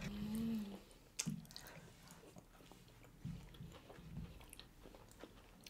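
A crunchy-shelled Domino's dessert with a fudgy lava filling is bitten and chewed close to the mic during a mukbang meal, a few sharp crunches followed by quieter, soft chewing.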